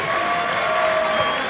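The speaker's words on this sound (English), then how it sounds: "how about a nice round of applause for both fighters" An arena crowd at an MMA event claps for both fighters after the bout, a dense, steady burst of applause with faint cheering mixed in.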